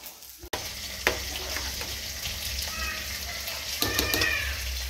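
Three pieces of fish fry in hot oil, giving a steady close sizzle with a few sharp knocks and clatters.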